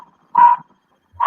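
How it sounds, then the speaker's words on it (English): Pet dog barking indoors, two short sharp barks about a second apart, close and fairly loud against near silence. "Like my dog is barking."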